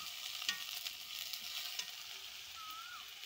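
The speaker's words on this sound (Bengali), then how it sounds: "সবজিগুলোকে ভালো করে একটু ভেজে নেব।" Vegetables frying in oil in a pan over a wood fire, a steady close hiss and sizzle with light crackles and occasional stirring clicks throughout.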